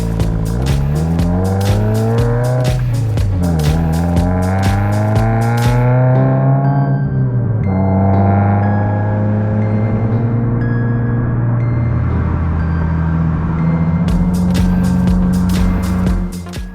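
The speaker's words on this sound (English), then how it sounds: "we decided to do a little Subaru WRX run into the Black Diamond area" A Subaru WRX drives along Southeast Auburn Black Diamond Road in the Black Diamond area. The engine is loud and close, revving and shifting through the gears, with the pitch rising and falling over the full length of the drive and no voices.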